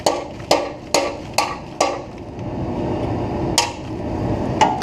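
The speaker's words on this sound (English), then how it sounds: "So now I can take my punch, hit what's left of the bolt here" A hammer strikes a punch to drive a broken exhaust bolt out of a 1977 Ford Thunderbird: six sharp metallic blows in an uneven rhythm, close and loud, with a scraping pause between the later hits.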